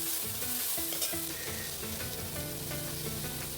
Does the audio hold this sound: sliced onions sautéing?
yes